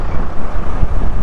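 Gusty wind buffets the microphone near a barge at the water's edge on a blustery day, a steady close rumble that swells and eases with no voices.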